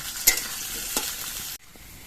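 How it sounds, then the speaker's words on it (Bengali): Potatoes fry in hot oil in a pan with a steady close sizzle and a couple of sharp stirring clicks before the sound drops away abruptly to quiet. "আলুগুলো আমি কিছুক্ষণ ভেজে নিয়েছি"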